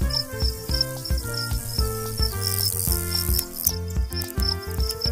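Rapid, regular high-pitched cricket chirps pulse steadily over a background of rhythmic music.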